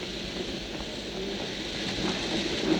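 Train standing at a station in a radio drama sound effect, a steady low rumble and hiss of the carriages and platform ambience, fairly quiet and continuous with no talk.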